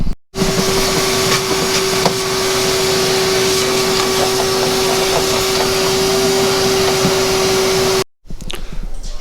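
A vacuum cleaner runs steadily and loudly while cleaning out the stripped interior of a Jeep Grand Cherokee, a constant whine and rush for about eight seconds before it cuts off abruptly.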